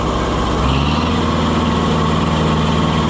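A diesel engine on an Oliver 550 tractor, freshly fitted with an injection pump, runs steadily at idle, a close, loud, even low throb with a slight rattle and no interruption throughout.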